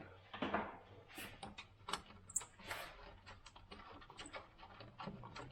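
Screws being removed under the hood of a 2000 Acura 3.2 TL during timing belt and water pump work, faint close clicks, ratcheting ticks and small metallic taps in an irregular sequence.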